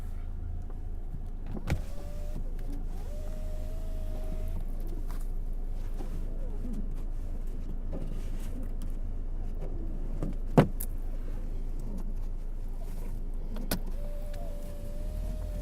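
Power window motor on a 2018 Mercedes-Benz E300 4MATIC sliding the glass down in snowy conditions, a steady faint whir inside the car cabin, with a short second run near the end, under a low engine hum.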